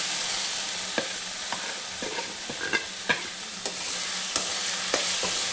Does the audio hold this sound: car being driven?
no